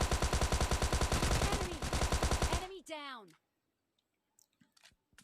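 Rapid bursts of automatic gunfire from a battle royale video game crackle loudly for a few seconds, then cut to quieter clicks and a short swooping effect near the end.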